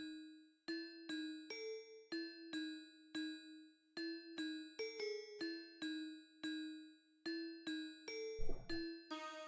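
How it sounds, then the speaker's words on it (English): Two layered electronic rhythm bells strike in a steady plugg-style beat, bright chiming notes repeating a pattern with a brief noisy hit near the end. "I added 2 different bells, some rhythm bells"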